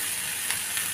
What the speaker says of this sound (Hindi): अब शिमला मिर्च को भी साथ में भून लेते हैं।